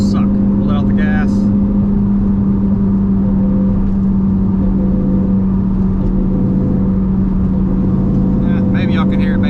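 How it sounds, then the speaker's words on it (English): A 2001 Mustang Cobra cruises at around 55 mph, its steady engine and road drone carrying a faint whine from a worn rear end, while someone talks over it throughout. "I'm gonna see if I can get the noise from the rear end to pick up."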